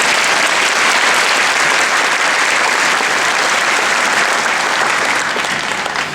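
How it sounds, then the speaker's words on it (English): A large audience at a high school graduation ceremony applauds in a loud, sustained burst of clapping that holds steady and tapers slightly at the end. "Let's give them a round of applause."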